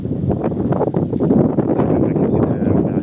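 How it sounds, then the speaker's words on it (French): Gusty wind blowing across an open hillside in Corsica, rumbling and buffeting the microphone in uneven surges, loud and close throughout with no voices. "Tellement qu'il y a du vent, mais heureusement qu'il y a du vent"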